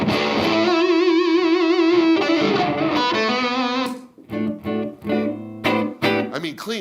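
A Reverend Double Agent OG electric guitar on its neck pickup plays a loud, sustained, distorted rock tone with vibrato-bent notes, then breaks into choppier chords and short phrases.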